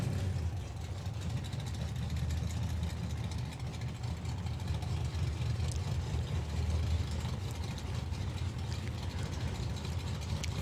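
A supercharged Ford Capri drag car, entered in the Supercharged Outlaws class, idles at a drag strip with a low, steady, fairly distant rumble that holds evenly throughout.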